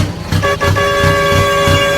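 A loud combine harvester horn in the video game Farming Simulator 22 blares in a sustained, steady tone over a low engine rumble, close and clear.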